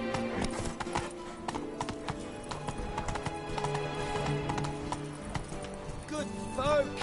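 A horse gallops in The Witcher 3: Wild Hunt, Blood and Wine, with rapid rhythmic hoofbeats and a neigh near the end, while a voice talks over it.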